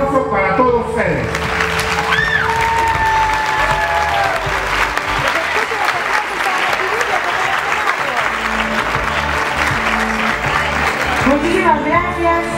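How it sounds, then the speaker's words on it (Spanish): Audience applause rolls on continuously at a formal event, with scattered voices and some shouts rising above the clapping before it thins near the end. "Fuerte el aplauso para todos ustedes."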